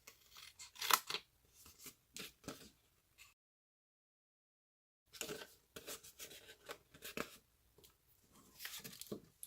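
Scissors snip through paper while cutting along score lines and mitering corners for a treat-holder box, giving quick, close, quiet crunchy cuts in two bursts separated by a few seconds of silence.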